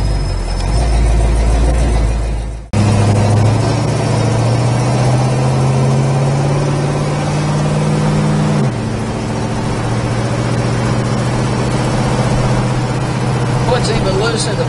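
A 1970 Chevrolet Chevelle SS engine runs at a steady low idle, loud and close, its pitch stepping up briefly mid-clip before settling again, with people talking over it.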